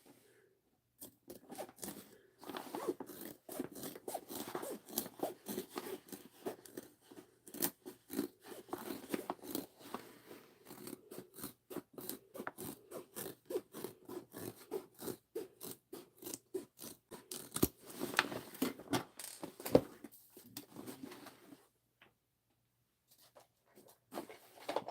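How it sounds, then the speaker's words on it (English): Scissors trimming fabric for a handmade backpack, a long run of quiet, rapid snipping and crunching cuts close by, with brief pauses between bursts. "those scissors were garbage"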